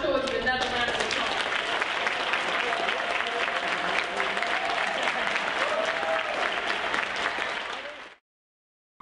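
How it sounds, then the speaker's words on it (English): Sustained, full audience applause for children at a cyber security competition event, steady clapping and crowd noise for about eight seconds, then cutting to silence. "Let's give our children another round of applause."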